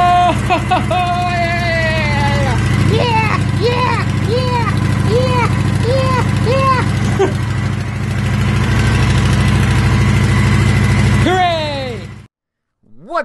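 A motorcycle idles steadily inside a snowbound shed, its low, even engine drone running for the whole stretch while an excited voice calls out over it. The engine cuts off abruptly near the end.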